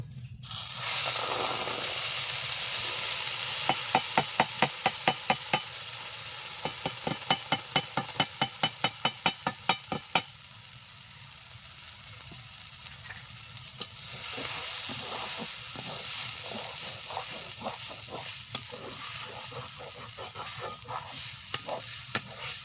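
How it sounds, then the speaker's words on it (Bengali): Pumpkin pieces frying in ghee in a pan, a steady loud sizzle broken by a run of sharp rhythmic clacks of a spoon stirring against the pan, then softer crackling hiss continuing alone. "মিডিয়াম আছে কুমড়োটা ঘি দিয়ে ভেজে নেব"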